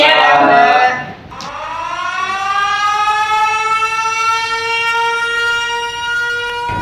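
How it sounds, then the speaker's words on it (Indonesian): A loud workplace danger warning siren wails after a brief burst of noise, its rising tone settling into a sustained, steady howl. "Bunyi sirine peringatan bahaya sudah mulai dinyalakan."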